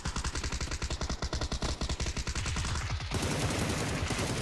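Automatic gunfire in the PUBG video game rattles in a fast rhythmic burst of sharp shots, loud and close, then gives way to a dense continuous roar of overlapping fire.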